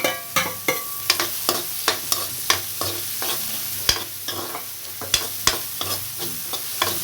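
Chopped onion and green chilli frying in a pan, stirred steadily with a spoon: repeated close scraping clicks over a continuous soft sizzle, no voices.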